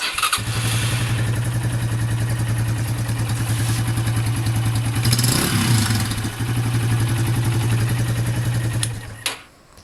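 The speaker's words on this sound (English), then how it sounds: "give it some throttle to get it going. But once you do, should run great." A SYM Wolf 150 motorcycle idles steadily and loud up close after its carburetor jets were cleaned, a throbbing single-cylinder thump with a brief throttle blip midway before it cuts off near the end.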